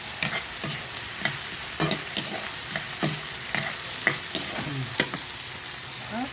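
Tomatoes sautéing in a pan, a steady close sizzle broken by regular scraping stirs about every half second, with no talking.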